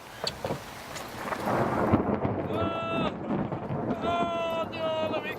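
Heavy rain pounds down during a thunderstorm at a festival campsite by a caravan, a dense hiss with low thumps, while a tonal whistling or singing voice rises briefly over the downpour.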